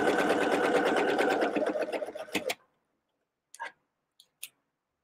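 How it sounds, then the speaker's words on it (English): A sewing machine stitches seams on a fanny pack in a fast, steady mechanical whir for about two and a half seconds. It then stops, followed by a few faint clicks and taps. "you kind of sew each seam a number of times"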